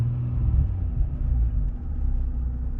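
A 2003-2007 Infiniti G35 with a freshly installed 75mm throttle body idles in a steady low rumble as the throttle is blipped, the engine note swelling briefly near the start, up close and with no talk.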